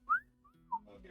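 Someone whistles faintly in the background, a few short sliding tones, a rising note followed by a gentler falling one, with no talk over them.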